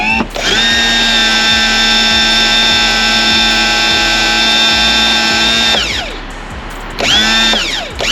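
Hydraulic jack plate motor on a boat whines loudly and steadily for several seconds, drops out briefly, then starts up again for a shorter run.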